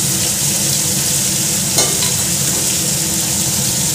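Steady, close sizzle of spices frying in a pan as salt and turmeric go in, with a brief stirring scrape partway through and no talk.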